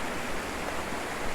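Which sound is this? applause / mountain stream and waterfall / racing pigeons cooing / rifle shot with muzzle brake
mountain stream and waterfall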